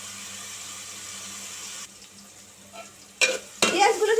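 Onions fry for mutton nihari with a faint steady sizzle, then louder bursts of sizzling and stirring come in near the end.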